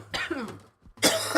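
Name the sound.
coughing after a big dab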